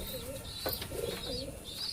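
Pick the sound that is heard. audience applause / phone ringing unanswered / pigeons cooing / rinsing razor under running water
pigeons cooing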